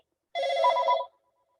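Single brief ring of a telephone signalling an incoming call from a cell phone during a general meeting, a clean trilling tone under a second long with silence around it.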